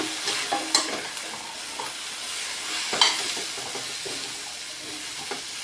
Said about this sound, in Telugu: నెక్స్ట్ ఈ ములక్కాడ ముక్కలేమో ఇలా వేసిద్దామండి కొంచెం కలుపుదాం